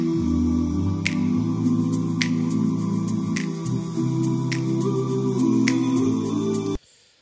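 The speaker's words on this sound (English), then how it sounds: "the vocals with some uh, finger snaps" Evenly spaced finger snaps, about one per second, layered over a sustained, harmonic vocal and music bed, all ending abruptly near the close.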